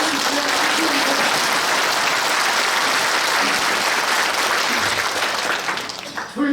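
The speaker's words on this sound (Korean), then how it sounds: "박수를 주시면" Congregation applauding at a church service honouring a retiring pastor, loud and dense sustained clapping that fades near the end as a voice returns.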